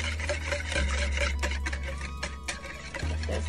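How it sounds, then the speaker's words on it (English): Wire whisk stirring honey and donut batter ingredients in a bowl, giving a quick run of soft, irregular clicks and scrapes over a steady low hum from a nearby appliance. "Now we're going to take a whisk and whisk these ingredients together."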